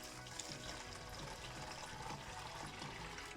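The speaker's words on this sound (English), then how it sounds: "Into that, I'm tipping a bunch of water" Water tipped into a bowl over a tablespoon or so of seasoning and onion, roughly a litre, pouring steadily as a continuous broad splashing rush with no pauses.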